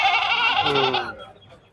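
A goat at a goat market lets out one loud, close, wavering bleat that trails off into quieter background noise.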